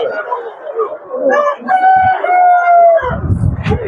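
A rooster crows loudly and close by at a busy poultry market, one drawn-out call rising over other birds clucking, ending in a burst of noise.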